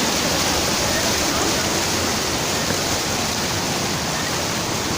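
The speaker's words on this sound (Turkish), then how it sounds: "Burada böyle bir nehir var." A river rushes beneath a bridge at a stone mill in Safranbolu, giving a loud, dense, unbroken roar of water with no breaks or variation.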